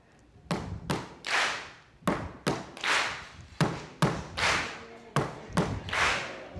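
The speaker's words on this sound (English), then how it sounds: "we want to sound like 1 person clapping every time" A large audience claps in unison on cue: eight or nine sharp, tightly synchronized claps in a slightly uneven rhythm, each ringing briefly in a big hall, with no talking.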